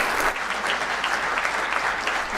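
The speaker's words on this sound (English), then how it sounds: "let's give Mark another round of applause" A crowd applauds steadily, dense clapping filling the room throughout.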